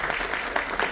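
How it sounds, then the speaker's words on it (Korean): Audience applause at an ESG forum, a steady dense burst of clapping from a crowd filling the whole moment without voices. "여러분 힘찬 박수 부탁드립니다"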